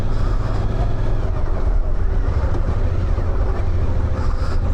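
Car engine droning steadily in a low, continuous rumble as it labors in the wrong gear, loud and close throughout with no talking.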